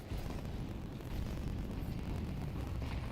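Continuous low rumbling blast from a grenade in a competitive esports video game match, a dense, muffled roar that holds at a steady level for the whole stretch with no speech.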